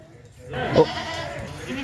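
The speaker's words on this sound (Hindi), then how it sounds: "इसमें 3 बच्चों वाली बकरी मैं आपको चेक करा देता हूँ" A goat that has borne three kids bleats once at a breeder's farm. The cry is brief and fairly close, over a low background murmur.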